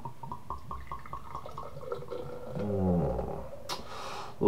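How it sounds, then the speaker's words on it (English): Kozel Premium Pilsener pale lager poured into a 500 ml stein, a steady close glugging and splashing stream that rises in a swelling fill before tapering off, with a faint knock at the end. "Alright, let's pour it out."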